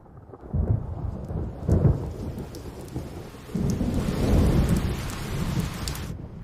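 Heavy rain pours steadily while deep thunder rolls and rumbles, swelling loudly twice, with no voices.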